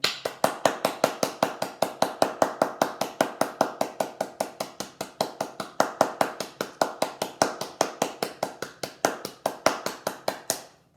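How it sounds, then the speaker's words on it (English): School assembly audience clapping in unison for the staff, a long run of sharp, evenly spaced claps at a quick steady rhythm, loud and close, lasting about eleven seconds with no talk. "I'd like you to give them all a big clap, and I'm going to join in"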